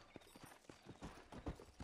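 Horse hooves clip-clopping in Red Dead Redemption on Xbox One as a rider sets off, a quiet, steady rhythm of soft thuds repeating across the whole stretch with no talk over it.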